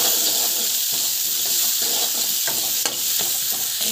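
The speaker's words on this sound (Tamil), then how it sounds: "பெருங்காயம் போட்டுட்டு நல்லா வந்து வதங்கட்டும்." Asafoetida sautéing in a hot pan, giving a steady bright sizzle with occasional stirring scrapes and small pops, close and continuous with no talking.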